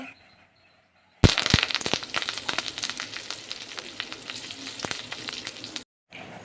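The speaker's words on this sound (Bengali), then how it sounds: "একটা প্যানের মধ্যে প্রথমে আমি দিয়ে দেব এক চামচ মতো তেল সাথেই দিয়ে দেব এক চামচ মতো সর্ষে" Mustard seeds and curry leaves dropped into hot oil in a pan, erupting into loud, close sizzling with sharp popping crackles that runs for several seconds, then cuts off abruptly after a quiet start, no voices.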